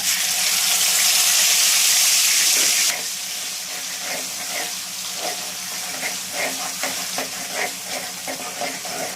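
Ginger-garlic paste ground with cinnamon, cloves and cardamom hits hot oil with cumin for an Andhra-style goat blood fry, giving a loud hissing sizzle that eases after a few seconds into steadier crackling frying with light stirring clicks.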